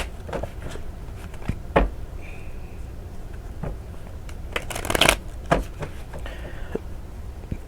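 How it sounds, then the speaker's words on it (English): Tarot cards are shuffled by hand close up, with a series of crisp riffling and sliding card bursts and a few soft taps between them, with no voice. "So let's go ahead and get some tarot cards."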